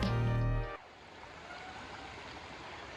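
Hurricane Creek flows beside a trailside campsite, a steady broadband rush of water after a brief loud tonal sound at the start.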